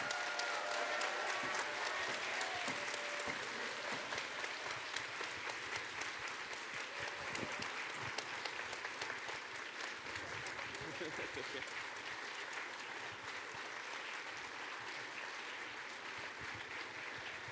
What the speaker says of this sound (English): So let's give him a huge round of applause.